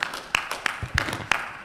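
Scattered claps from a small audience, a handful of sharp hand claps spread unevenly over a moment rather than a full ovation.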